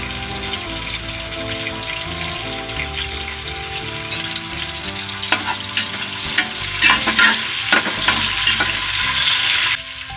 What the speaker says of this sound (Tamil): வெங்காயம் சீக்கிரம் வதங்கும். வெங்காயம் நல்லா வதங்கணும்.